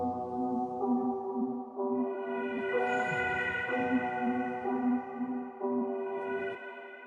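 Soft synth pad under a piano line with textured layers, bright highs and heavy reverb, sustained chords changing every second or so in a steady, washy loop with no voices.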